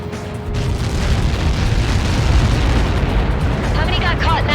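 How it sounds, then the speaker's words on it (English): A huge explosion from an impact in the flight combat game Ace Combat 7: Skies Unknown, a sustained loud rumbling roar lasting several seconds, with radio chatter from a voice near the end. "How many got caught in that explosion?"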